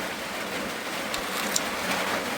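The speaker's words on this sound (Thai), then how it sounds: "เสียงฝนหยาดใส่สังกะสีดังปอกแป๊" Rain falling on a corrugated zinc roof, a dense, steady hiss of drops drumming on the metal with a few sharper taps standing out, fairly loud and without voices.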